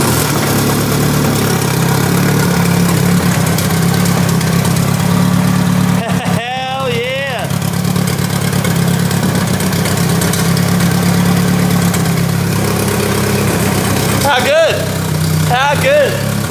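A Nissan CA engine fitted in a rear-wheel drive converted Lancer Evo idles steadily up close with an even, throbbing hum, while brief speech-like chirps cut across it twice.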